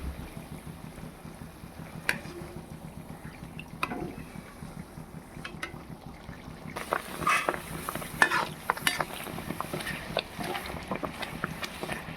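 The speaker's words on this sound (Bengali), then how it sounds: "ভাজা হয়ে গেছে তুলে নেবো" Puris fry in hot oil with a steady crackling sizzle, stirred now and then, the bubbling growing busier partway through.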